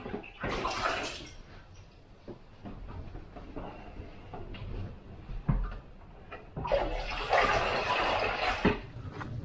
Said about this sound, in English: Nice flushing toilet, but you have to fill up the tank yourself.